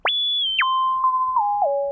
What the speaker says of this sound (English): Right now we just have a basic sine wave with some kind of envelope tied into it.